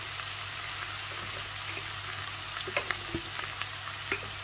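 Turmeric, coriander and red chili powders frying in a pan for a radish curry, making a quiet, continuous sizzle with scattered small clicks and scrapes as the spatula mixes them, close by and free of speech.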